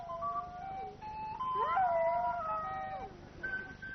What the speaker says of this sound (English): what about that pet dog that was howling?